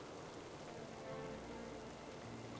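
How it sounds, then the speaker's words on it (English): Soft, steady rain patters across the Tiragarde Sound zone in World of Warcraft, a faint continuous hiss of drops with a low rumble rising near the end. "Oh, and then I drift into rain."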